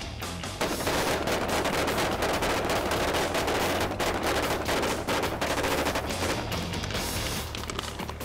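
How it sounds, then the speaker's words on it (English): Blank gunfire on a TV set, aimed at the ground to simulate ricochets: a dense, loud burst of rapid shots crackling almost continuously for about seven seconds with no talking. "We're firing on the ground to simulate the bullets ricocheting from their weapons in front of camera."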